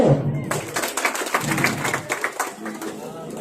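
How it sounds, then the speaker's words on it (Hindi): A crowd claps together at an outdoor election rally in the village of Deh, producing dense, steady applause. It swells after a short moment and keeps going at a fairly even level. "जोर से ताली बजाओ"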